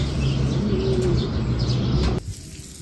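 Cooing and chirping of a young racing pigeon arriving at its loft, close and steady for about two seconds before cutting off, with faint background noise after.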